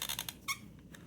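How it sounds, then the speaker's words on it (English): An adhesive applicator gun squeaks while a shaped shaker card is assembled: a quick run of short, close squeaks, one louder squeak, then a couple of faint ones. "I'm sorry that this gun squeaks a little bit"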